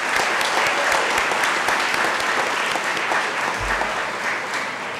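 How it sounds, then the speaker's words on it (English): A crowd at a college day celebration breaks into full applause, loud continuous clapping that holds steady and eases off slightly near the end, with no voices standing out. "Let's give them a round of applause."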